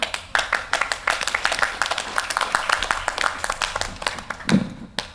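An audience at a community storytelling event claps briskly, with individual hand claps clearly separate in a quick, uneven patter that thins out toward the end.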